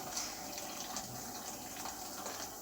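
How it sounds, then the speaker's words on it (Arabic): Boiling water poured into a pot of stuffed-vegetable broth seasoned with tomato paste, salt and black pepper, giving a steady, close splashing gush that runs continuously without pause. "وادي كده ميه مغليه."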